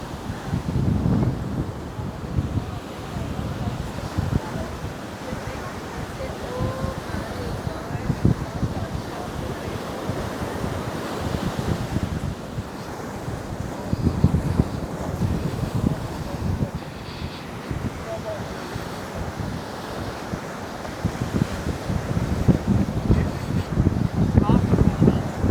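Sea waves wash ashore at Mirissa Beach, Sri Lanka, a steady rolling surf roar with wind buffeting the microphone and swells of louder breakers throughout.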